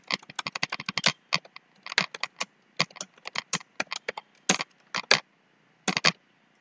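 A computer keyboard types notes in quick, uneven bursts of crisp key clicks, with short pauses between the runs, heard close and alone.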